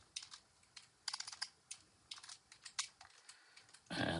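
Code being typed on a computer keyboard, with irregular bursts of quick, close keystrokes separated by short pauses, ending in a louder, denser clatter.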